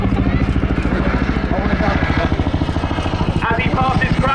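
A Chinook helicopter with two 5,000-horsepower engines flies an airshow display at RAF Cosford, giving a loud, close, steady rhythmic rotor thudding over a continuous engine drone.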